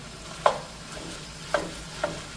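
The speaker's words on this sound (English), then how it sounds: "So at this point I'm going to add the 2 pounds of ground beef" Two pounds of ground beef sautéing in a pan for cottage pie, a soft steady sizzle with three distinct spoon scrapes or taps spaced apart, fairly quiet and close.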